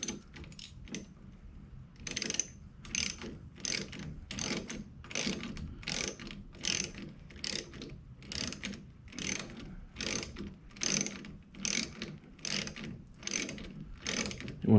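Ratchet wrench with a 10mm socket tightening a Bixpy J-2 outboard mount on a Pilot 12.0 fishing kayak: a steady series of sharp ratcheting clicks in regular bursts, close and fairly quiet, with no talking.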